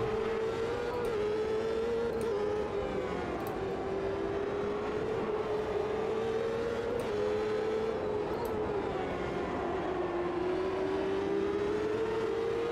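A Champ Car engine drones steadily through a lap of Watkins Glen in the Automobilista 2 racing game, its pitch rising and falling gently through gear changes and corners, loud and continuous with no talk.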